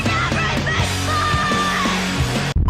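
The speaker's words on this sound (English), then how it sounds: "one of the most underrated rock and roll screams ever" A woman's sustained, raw rock scream rings out over loud, driving band instrumentation in a 90s alternative rock song, holding steadily before cutting off abruptly near the end.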